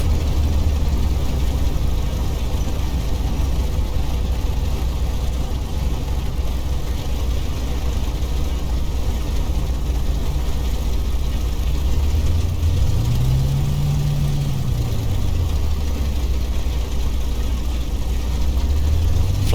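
A light aircraft's engine drones loud and steady while taxiing, a constant low rumble that briefly rises and falls in pitch near the end.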